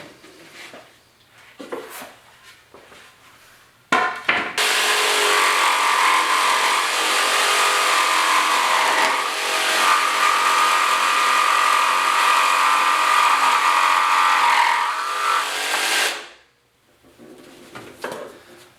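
Jigsaw cutting through a piece of wood at a steep angle for a standing lattice project, a loud, steady buzzing saw run of about twelve seconds that starts abruptly and stops, with quieter handling noises before and after.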